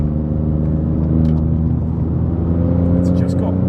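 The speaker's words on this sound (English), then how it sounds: "definitely makes nice little turbo noise" A rebuilt Ford Fiesta MK7 with a 1.0 litre EcoBoost turbo engine accelerates along a country road, giving a steady, loud, close engine drone with a faint turbo whir over it.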